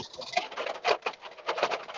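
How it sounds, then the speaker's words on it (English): Big raindrops pattering hard on a surface, a dense irregular drumming with a few louder splats, close and steady with no voices. "No, just fucking big ass drops of rain"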